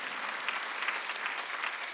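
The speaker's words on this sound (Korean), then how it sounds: "박수 한번 드리세요" A church congregation at a Sunday service applauds together, a continuous, even wash of many hands clapping at moderate distance, steady from start to finish with no speech.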